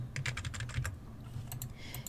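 Computer keyboard arrow keys pressed while nudging shapes for an acrylic keychain design in LightBurn laser software: a quick run of about ten close, crisp clicks, a short pause, then a few more taps.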